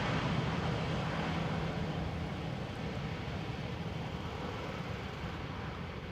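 Steady broadband roar of an Airbus airliner at Amsterdam Schiphol Airport, a continuous distant jet rumble that fades slightly toward the end, with no talking.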